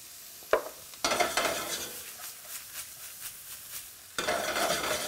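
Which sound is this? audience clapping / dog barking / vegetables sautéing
vegetables sautéing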